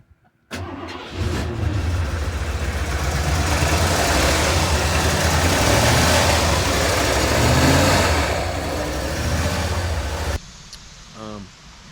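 A 1987 Ford F truck cranks, catches and fires up, its engine roaring steadily close by for about ten seconds before cutting off abruptly, with a brief voice afterward.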